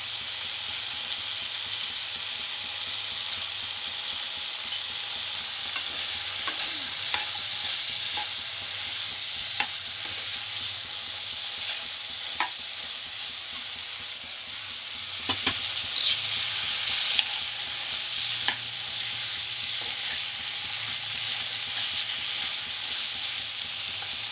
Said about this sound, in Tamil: இப்போது இது கூட சன்னா இருக்குது, சன்னா கொஞ்சம் மிக்ஸ் பண்ணிக்கணும்